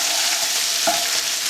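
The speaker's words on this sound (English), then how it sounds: "Keep stirring them round, that's why it's called stir frying" Beef strips sizzle and hiss steadily as they are stir fried in a hot pan, a loud continuous frying sound with a brief scrape of stirring, no talking.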